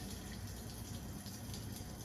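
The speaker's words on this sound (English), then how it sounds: "Let's add water." Water poured from close by into a repurposed teapot used as a planter, a soft steady splashing trickle held briefly at low volume.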